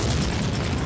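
A loud, dense explosion boom inside a burning office building during the September 11 attacks, a continuous heavy rumble with no voices over it.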